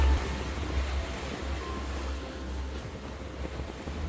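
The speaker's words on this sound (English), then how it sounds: "we have 2-meter waves because there's been a big system coming through from the north" Ocean waves of about two meters wash against a sailing vessel during an overnight crossing as a weather system passes from the north, a steady broadband rush with constant low rumble and wind, no voices.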